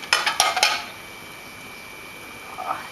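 A metal spoon clinks against a cooking pot of boiling bagna cauda in an Italian kitchen, three or four sharp close knocks in quick succession, then a quiet simmering background.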